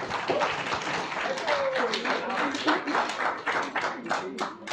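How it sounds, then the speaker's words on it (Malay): Audience clapping at a religious gathering, a steady patter of claps mixed with voices and chatter throughout. "Okey, beri tepukan gemuruh."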